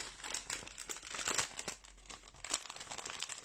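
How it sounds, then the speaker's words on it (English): Stamp transfers are pulled from thin plastic packaging, making close, continuous crinkling and rustling with uneven bursts of louder crackle. "when you use these transfers, it's a good idea to take them out of the packaging"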